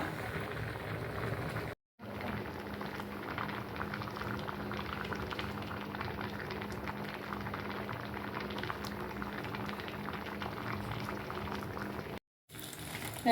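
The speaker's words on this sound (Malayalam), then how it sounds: "കൽച്ചട്ടയായ കാരണം ഇത് തിളച്ചുകൊണ്ടിരിക്കും" Ozhichoottan curry in a stone pot keeps bubbling on its own after the gas is switched off, a continuous soft boil heard close up and alone, with two brief gaps.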